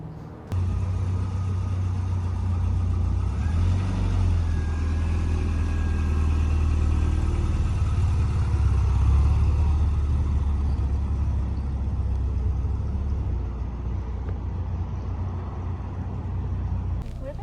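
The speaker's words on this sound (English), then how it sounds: "actually driving the little Mini, it sounds really nice" Small Rover Mini classic car driving, its steady low engine drone and road rumble continuing throughout with no talk over it.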